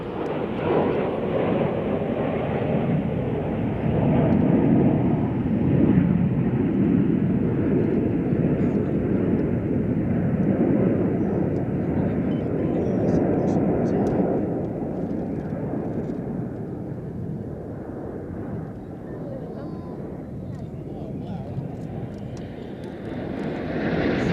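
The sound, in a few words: Red Arrows jets flying airshow display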